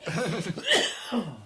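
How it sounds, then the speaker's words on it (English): A person coughs a few times in quick succession, close and fairly loud, ending in a short throat-clearing sound. "Excuse my coughing."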